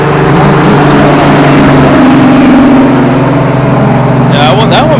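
A muscle car engine revs loudly at the Cruise at the Beach car show in Redondo Beach, a deep, close rumble that climbs and settles before a brief sharp burst near the end.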